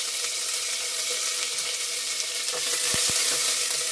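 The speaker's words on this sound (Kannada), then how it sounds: "ಈಗ ಈರುಳ್ಳಿ, ಕರಿಬೇವಿನ ಸೊಪ್ಪು, ಸ್ವಲ್ಪ ಕಸ್ತೂರಿ ಮೆಣಸು ಹಾಕ್ತಾಯಿದ್ದೀನಿ" Onion, curry leaves and a little pepper frying in hot tempering oil for sambar, a dense, steady sizzle close by with a couple of brief clinks near the end, while someone talks over it.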